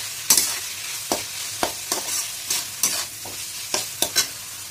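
Capsicum and onion fry in a pan for a Veg Manchurian, a steady sizzle broken by about nine sharp scraping strokes of a spatula at an uneven rhythm, close and fairly loud, with no talk.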